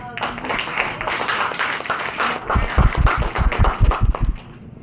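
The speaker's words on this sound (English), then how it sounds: "So let's give applause to Sharon." An audience at a community meeting claps, scattered at first and then building into louder, sharper bursts of hand claps, with faint talk early on.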